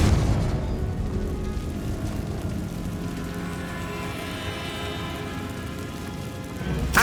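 A Confringo fire spell explodes in Hogwarts Legacy: a loud, booming blast opens with a dense rumbling roar that rolls on and fades slowly, and a second sharp burst hits at the very end.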